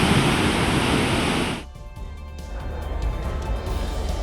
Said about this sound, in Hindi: 2 गांव को जोड़ने वाले पुल के रास्ते पर अब पानी बह रहा है।